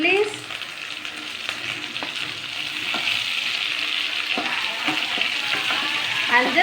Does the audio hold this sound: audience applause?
no